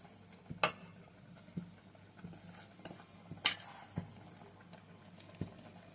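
A spoon scrapes and clinks against a pot while coconut is stirred into jaggery syrup, giving irregular soft metallic taps and scrapes, quiet and close.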